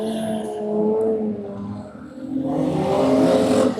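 Buzz 6-cylinder stock cars race a heat at Buckshot Speedway dirt track, their engines revving and whining past at a middle distance, with the pitch swelling, dipping and rising again as cars go by.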